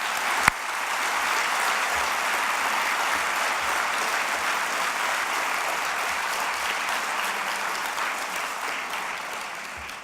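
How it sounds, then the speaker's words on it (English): Sustained applause from a large audience at an alumni conference welcome address, a dense steady clatter of clapping that runs throughout and tapers slightly at the end. "Let's give him a big round of applause."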